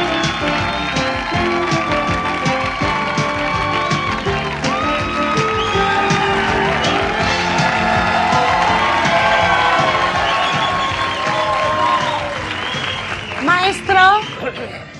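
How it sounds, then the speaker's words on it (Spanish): A crowd at a club show applauds and cheers to welcome a singer, loud dense clapping with shouts and whoops throughout, a few voices and laughter rising near the end. "Vamos a recibir con un fuerte aplauso a Florito."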